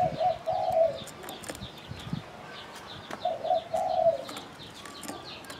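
Spotted dove cooing in two repeated phrases, a low soft rhythmic coo close by, with faint chirps in the background and no talk.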